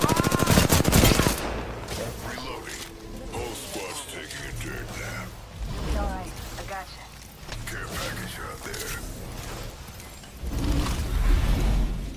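Rapid automatic gunfire from the video game Apex Legends crackles in dense bursts at the start and end, with weapon sounds running throughout under a player's voice.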